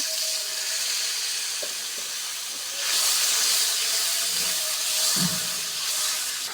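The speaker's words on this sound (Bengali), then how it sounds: "একটু সামান্য পানি দিয়ে কষিয়ে নেব মশলাটা।" Masala paste of chili powder and turmeric with a little water frying in a pan for a fish curry, giving a steady close hiss and sizzle throughout with a few louder bursts.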